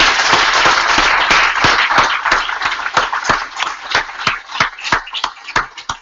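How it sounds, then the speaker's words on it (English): Audience applause at a talk on entrepreneurship: a dense burst of clapping that steadily thins out into scattered, distinct individual claps before fading away. "Can we give him a big round of applause?"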